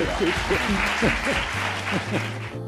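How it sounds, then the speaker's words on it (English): An audience at a NASA event applauds steadily, a dense wash of clapping that continues throughout, with a voice speaking briefly over it. "Round of applause."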